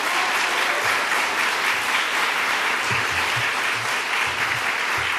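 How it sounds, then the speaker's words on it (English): Crowd applause at a governor's bill-signing event for reproductive health legislation: dense, steady clapping from a large audience that holds loud and even throughout, with faint voices underneath. "Let's give them both a round of applause."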